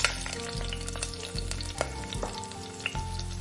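Whole spices, including cracked green cardamom, frying in hot oil for a chicken curry, a steady close sizzle with a few sharp pops and stirring clinks, no voices.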